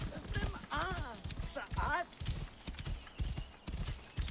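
Horse hooves clip-clop at a gallop in the Assassin's Creed Origins video game, steady and rhythmic through the whole stretch, mixed with whinnies and running under game voices and talk.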